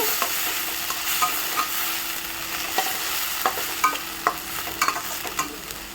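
Greens sizzle and hiss in a hot frying pan while a spoon stirs and scrapes with scattered sharp clicks. Close by, with no talking.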